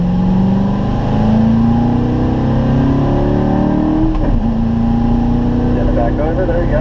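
Corvette engine revving hard on a racetrack during a driving-school lap, loud and close with a steady rising and falling drone as the car shifts down under braking, while an instructor talks over it.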